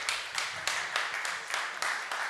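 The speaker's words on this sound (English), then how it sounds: "Round of applause, guys." Sparse clapping from a small audience at a Web3 development panel in Milan, about eight distinct hand claps at uneven intervals, fairly close and light rather than a full ovation.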